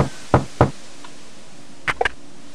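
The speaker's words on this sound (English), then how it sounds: "We can't just open the door. We have to knock." A knock on the ferryman's door in King's Quest VI: two sharp knocks, then a short pause and a softer cluster of taps, clear against a quiet background.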